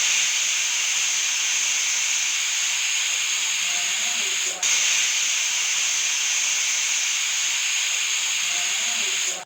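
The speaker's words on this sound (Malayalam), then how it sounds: "കുക്കറിൽ 4 വിസിൽ കൊടുക്കുന്നുണ്ട്." Steam hisses loudly and steadily from a pressure cooker cooking beef curry, with a sustained high whistle and a brief dip midway, alone without talk.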